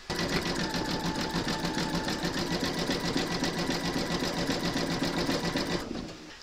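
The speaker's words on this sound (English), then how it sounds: "Pop your hoop into your machine and stitch round number 7." Close and loud, an embroidery machine sews a large skeleton applique with a fast, even needle rattle and motor whir, running steadily for about six seconds before halting abruptly.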